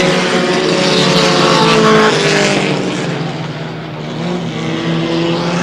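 Race cars roar around a racetrack during a 2008 race, a loud sustained engine howl from close by that swells and then eases slightly as the cars pass.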